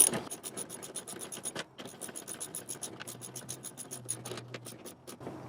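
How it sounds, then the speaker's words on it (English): Hand ratchet clicking in rapid bursts while tightening bolts on rock sliders of a Polaris Ranger XP1000, close and moderately loud, with rasping metal-on-metal scrapes and brief pauses between strokes. "Still use a manual ratchet."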